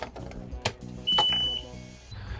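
A boat's ignition switched on gives a single short electronic beep of about half a second, sounding over low background clatter and faint movement.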